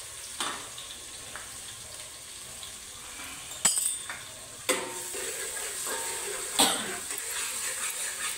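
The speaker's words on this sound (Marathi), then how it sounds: "तेल गरम झाल्यानंतर आपण वाटून घेतलेली मिरची टाकली।" Ground green chillies sizzle and fry in hot oil in a pan, a steady close hiss broken by a few sharp clinks and bursts.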